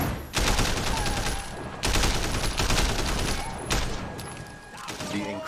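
Gunfire rattles in Sleeping Dogs: Definitive Edition as mid-air headshots are fired, dense rapid bursts broken by brief gaps, loud and continuous, with faint talking underneath.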